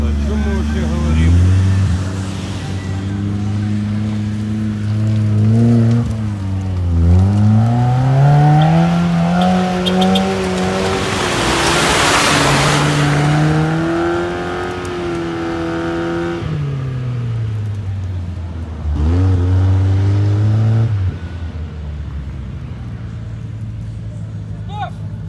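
An off-road 4x4 at a trophy orienteering competition revs hard while stuck and unable to move off, its engine whining up and down in long, loud strained pitch sweeps, with people talking over it.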